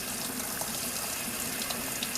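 Tap water running steadily as it rinses hair set on perm rods after a chemical curl treatment, a continuous close hiss and splash with small spattering changes, no voices.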